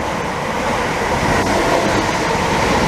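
A Class 317 electric train passing through Brimsdown station without stopping, a loud steady roar of wheels and carriages rushing past close by with faint rail clatter.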